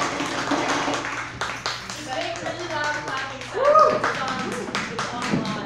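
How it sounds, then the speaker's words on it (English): An audience claps in short bursts at a live writing event, mixed with taps and shuffling, while people talk over it. "All right, clap."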